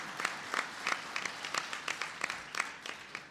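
A modest round of audience applause at a tribal nations conference, fairly faint and thin, with individual claps standing out in an uneven rhythm from a smallish crowd.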